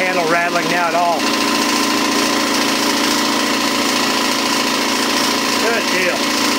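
A Campbell Hausfeld air compressor runs steadily during its break-in, a loud continuous motor drone with mechanical hum throughout, while a voice speaks briefly near the start and again near the end.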